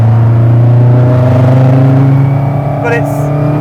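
A loud Ford Escort Mk1 rally car engine drones and rumbles up close, holding a steady, heavy tone with a slight rise in pitch toward the end.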